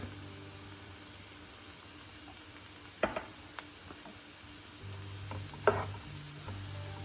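Curry powder cooks in a pan for Jamaican curry shrimp, giving a low, steady sizzle with a couple of sharp stirring clacks partway through. Nobody speaks.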